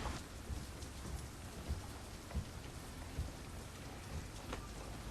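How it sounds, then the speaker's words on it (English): Steady rain falls in a continuous hiss, with low rumbles swelling underneath; no voices are heard. "Yeah, it's raining."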